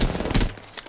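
Rapid burst fire from the Nemesis gun in Apex Legends, a quick string of close, loud shots cut off within half a second, followed by a fainter single report.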